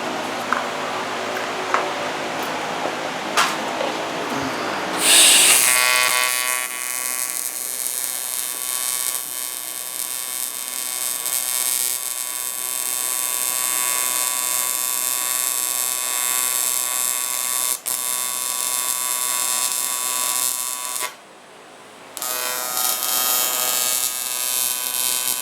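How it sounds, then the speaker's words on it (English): Steady electric buzzing hum with dense harmonics from welding a petcock drain plate onto a tank for a ProMod VW, running continuously near and loud for about fifteen seconds, broken by a brief drop near the end, with no speech. "Right now he's welding the plate in for the petcock so you can drain the bottom of the tank"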